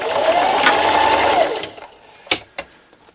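A sewing machine stitches fabric for a Halloween treat bag in a steady, loud, fast mechanical run of about a second and a half. It then stops, followed by two sharp clicks.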